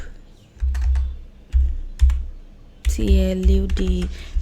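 Keys clatter on a computer keyboard as a prompt is typed, coming in short quick bursts with pauses between them, while a voice speaks briefly over the typing near the end.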